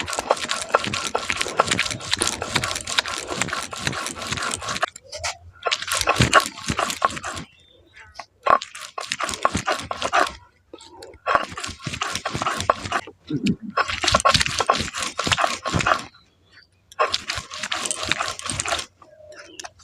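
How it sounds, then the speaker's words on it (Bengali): Green mango being ground with a little water on a Bengali shil-nora grinding stone, a repeated scraping, rubbing grind in close bursts of a few seconds each, separated by short pauses. "আমি শিলনোড়ার মধ্যে এই আমটাকে বেটে নিচ্ছি"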